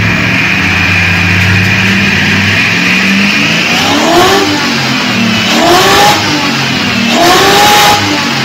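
A Toyota 1UZ-FE engine fitted in a Range Rover Classic idles steadily, then revs up sharply three times in short bursts, each rising whine falling back to idle, loud and nearby.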